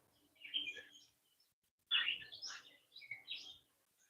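Birds chirp near a beach in a few short bursts of high, bright calls separated by a brief silence. They sound fairly close and quiet in an otherwise still outdoor setting.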